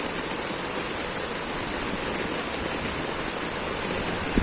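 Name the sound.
heavy rain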